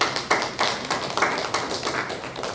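A church congregation claps in unison to welcome a missionary teacher to a Bible study, a steady, rhythmic series of sharp hand claps about three per second, close and alone.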